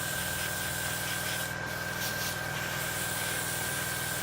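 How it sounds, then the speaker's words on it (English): An airbrush hisses a light, steady spray of paint over a 1/32 Tamiya F-16 model to blend the pre-shading, a continuous close-up airy rush with a faint compressor hum beneath and a brief lull midway. "light little spray over, just to blend in the pre-shading."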